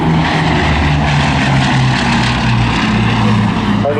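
A rebuilt Bristol Blenheim propeller aircraft flies past at the Southport Airshow 2024, its engines holding a loud, steady, throbbing drone that fills the whole stretch without a break.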